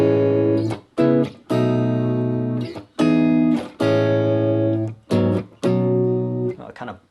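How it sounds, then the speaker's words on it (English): A chord progression played on a sustained, organ-like synth tone with a seventh added to every chord, six or so long held chords separated by brief gaps, clear and close. "So if we put a 7th on every chord in our progression, it would sound like this."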